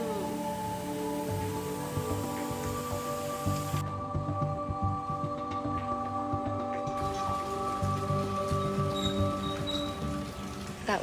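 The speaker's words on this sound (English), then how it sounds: "the rain was coming down on the roof" Steady rain drums on a roof during a thunderstorm in Ubud, Bali, a continuous soft patter with a constant hum underneath and brief faint chirps.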